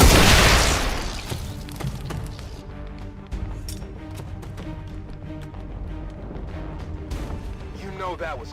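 A turret is blown apart in XCOM 2: a loud, heavy blast opens the moment and fades within a second, followed by scattered taps, clatter and softer bangs over a busy game backdrop.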